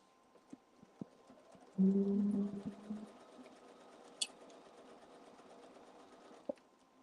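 A sewing machine stitching down a seam while reshaping a ladies' top: a soft, faint mechanical whir with light ticking, a brief louder burst in the middle, then quieter running and a few isolated clicks.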